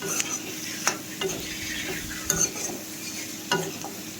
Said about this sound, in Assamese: কেঁচা জলকীয়াটোও দি দিছোঁ। এয়া ভালকৈ লৰাই লৈছোঁ মই।